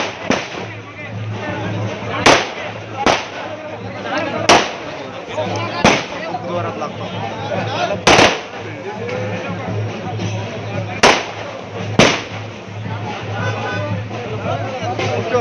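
Firecrackers burst at the unveiling of an Ahilyadevi Holkar statue in Chhatrapati Sambhajinagar, a string of sharp, loud cracks at irregular intervals over constant crowd babble and people talking.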